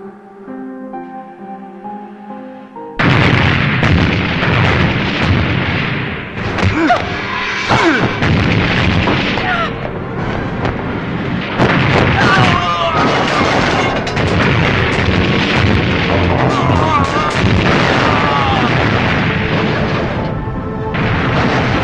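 Gunfire rings out in a Hong Kong action film scene, loud bursts and booms crowding together over a dense mix of crashes. The barrage starts abruptly after a quieter musical opening and carries on nearly without pause.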